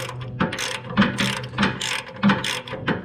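A ratchet wrench with a shallow socket loosening bolts underneath a Nissan Frontier during a catalytic converter replacement, rapid close clicking in repeated bursts of ratcheting strokes.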